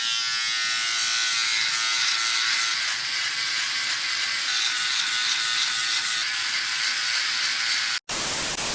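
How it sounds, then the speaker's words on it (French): A Philips OneBlade electric trimmer buzzes steadily and close while trimming a beard, running without a break before a sudden cut-off near the end. "ce qui dépasse, je le coupe avec la tondeuse"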